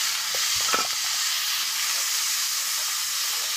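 Tomatoes hit a hot pan for an egg and tomato curry, giving a steady close sizzle and steamy hiss with a few brief clinks of stirring early on, no voices.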